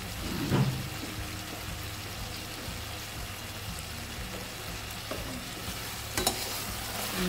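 Zucchini stir fry with spices being stirred in a pan, a steady close sizzle with scraping and clinking of a spoon against the pan, a few louder knocks near the start and end, no talking.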